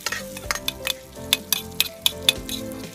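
Garlic fries in butter in a pan with a constant soft sizzle, while a utensil stirs and scrapes against the pan in a series of sharp clinks.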